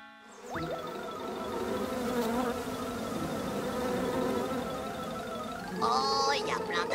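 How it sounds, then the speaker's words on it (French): Cartoon sound effect of a swarm of bees buzzing at a picnic, a dense, steady droning hum that holds throughout, with a springy boing-like effect rising near the end. "Oh, il y a plein d'abeilles, qu'est-ce qu'elles font?"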